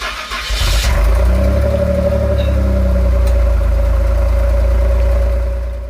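A Maserati car engine starts and then settles into a loud, steady idle with a constant low hum that carries through to the end.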